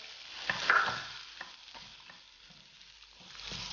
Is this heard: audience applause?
no